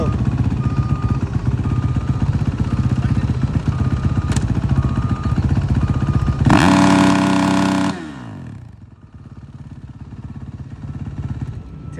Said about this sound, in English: We'll see if this motorcycle can pass sound check on its first attempt.